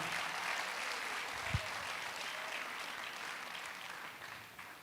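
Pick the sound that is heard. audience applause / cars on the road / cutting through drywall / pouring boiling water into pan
audience applause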